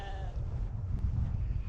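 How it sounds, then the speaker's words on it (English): Sheep bleat close by in a field on a hiking trail near Zug, Switzerland, a few short calls at the start over steady wind rumble on the microphone. "the sheep are right here"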